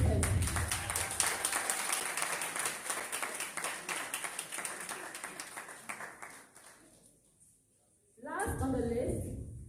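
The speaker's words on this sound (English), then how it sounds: "Again, with a round of applause, please let's welcome her" Audience at a student debate competition applauds to welcome a speaker, a sustained wash of clapping that fades away before a voice begins speaking.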